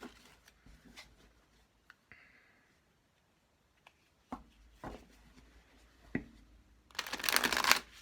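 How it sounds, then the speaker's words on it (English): Tarot cards shuffled during a late-night card reading, giving scattered soft riffles and taps across the clip, a few sharp flicks midway, then a loud dense burst of riffling near the end. No one speaks. "Cards want me to shuffle a lot tonight"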